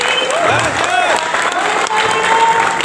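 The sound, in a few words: audience applause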